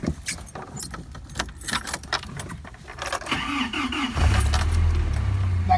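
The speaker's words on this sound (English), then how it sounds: "That cold start." A manual five-speed car's engine cold-starts after keys jangle near the ignition; the engine catches with a rising whir, then settles into a steady, loud idle.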